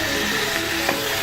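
Shallots frying in a pan with a drizzle of oil, a steady close sizzle with a brief spike partway through, no voices.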